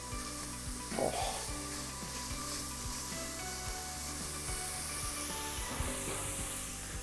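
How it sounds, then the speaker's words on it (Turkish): Butter sizzling in a hot pan with pieces of meat, a steady frying hiss broken by soft scraping and stirring taps as the food is moved around, heard alone. "Hemen tereyağını da atıyorum. Biraz tereyağını yaka yaka yapacağım."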